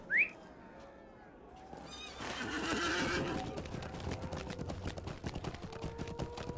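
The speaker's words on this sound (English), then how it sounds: "Get on my horse." In Lord of the Rings Online, a horse gives a sharp, close whinny, then a stretch of rushing gallop follows with steady clip-clopping hooves and faint whistling tones.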